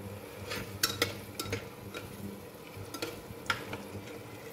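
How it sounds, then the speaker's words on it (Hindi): Dry potatoes roast in a pan with a soft, continuous sizzle. Scattered light scrapes and taps of a utensil stirring them sound close by, with no talk. "ये अभी थोड़ा सा और भूनना है इसको"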